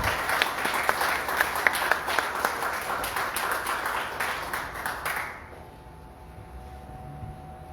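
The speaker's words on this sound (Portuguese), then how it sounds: "Você pode aplaudir o Senhor?" Congregation clapping during a church service, dense applause with a few sharp individual claps standing out, lasting about five seconds and then cutting off to quiet room tone.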